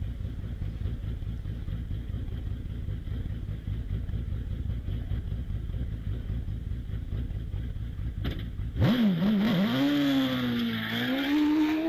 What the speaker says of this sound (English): So we can hear the car coming to the line. That would be the Force TA of Liam Cooper.